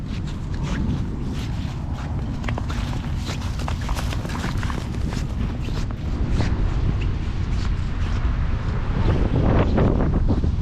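Wind gusts outdoors beside the Chicago River on a cold, snowy winter day, roaring loudly into the microphone as a heavy, continuous buffeting that swells stronger toward the end.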